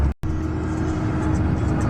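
Steady traffic roar of cars passing close by a moving bus on a road in the Yunguilla Valley of the Andes, a continuous loud engine and tire rumble with a brief dropout near the start.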